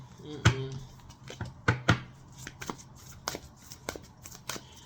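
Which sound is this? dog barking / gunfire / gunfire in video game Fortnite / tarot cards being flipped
tarot cards being flipped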